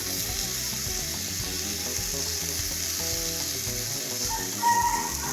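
Eggplant fries in a pan with a loud, continuous, close sizzle and crackle that holds steady throughout, while faint tonal background sounds run underneath.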